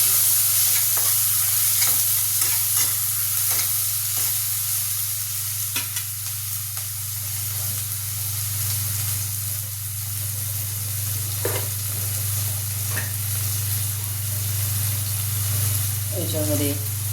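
Peanuts, onion, tomato and green chili sautéing in a pan, with a steady close sizzle and the scrape of stirring throughout, a constant low hum underneath and a few short clinks.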